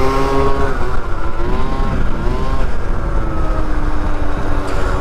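A Yamaha YZ 125 two-stroke dirt bike engine winds down as the rider slows, a buzzy engine note with falling pitch held close and loud throughout, with wind noise and no talking.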